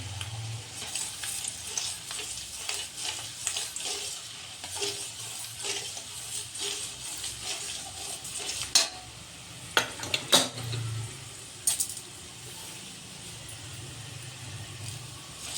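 Peanuts and urad dal fry in hot oil in a pan while being stirred, a soft steady sizzle with scraping strokes and a few sharper clinks of the spoon against the pan near the end.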